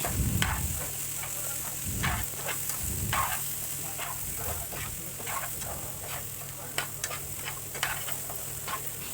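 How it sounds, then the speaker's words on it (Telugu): Chickpeas tossed with chili powder, garam masala and coriander powder are stirred in a hot pan, giving a steady sizzle broken by scattered scraping ticks of the spoon. "ఇప్పుడు ఒక నిమిషం పాటు ఇలానే కలుపుకుంటూ ఉడికించుకోవాలండి"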